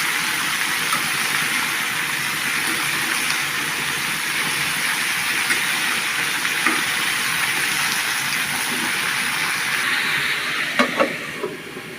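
Cauliflower fries in a pan with a continuous bright sizzle, loud and close throughout, with a few small clinks of a utensil near the end and no voices.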